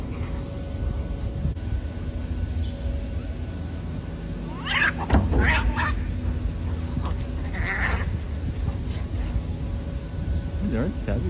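Cats fighting and play fighting, with sharp yowls and hisses bursting out mid-way and again near the end over a steady low background drone, while people talk and react.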